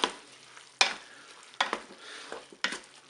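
Spaghetti with artichokes, chicken and lemon juice is stirred in a Cookeo pot, four sharp scraping strokes of a spoon about a second apart over a soft sizzle, close and alone.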